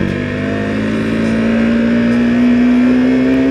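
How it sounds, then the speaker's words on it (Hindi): A 2021 KTM RC200 BS6 motorcycle engine drones steadily at close range, its pitch rising gradually as it accelerates, loud and continuous without voices. "करते हैं बाइक को स्टार्ट और चलते हैं।"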